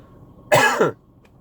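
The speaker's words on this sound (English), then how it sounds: "I apologize for coughing" A single harsh cough from a person at the Cedar Point amusement park during Halloweekends, one short close burst with a slight throat-clearing quality, then quiet.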